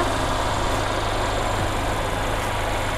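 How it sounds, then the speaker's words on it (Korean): A Mercedes-Benz CLA250 4MATIC engine idles at a steady, even drone, loud and close, with no change in pitch or rhythm. "엔진 소리 일정합니다"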